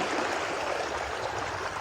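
A foldable off-road e-bike rides through water, producing a loud, continuous splashing rush like a stream, close up, with no speech.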